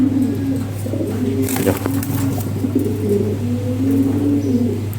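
Lahori Shirazi pigeons coo close by in a breeding loft, giving soft, repeated throaty rolls over a constant low background hum.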